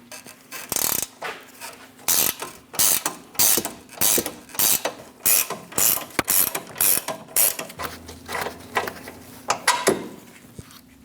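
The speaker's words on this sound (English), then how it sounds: "remove the front bolt and nut." A ratchet wrench clicks in repeated bursts while loosening a front control arm bolt nut on a Dodge Durango, with short metallic ratcheting runs separated by brief pauses, close and fairly loud with no talking.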